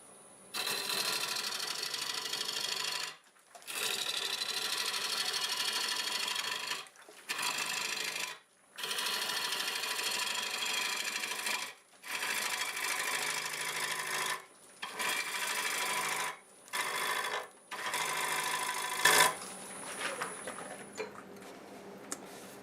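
Wood lathe turning cherry wood at raised RPM, a steady close scraping hiss from the tool on the spinning blank in repeated passes a few seconds long, separated by short pauses.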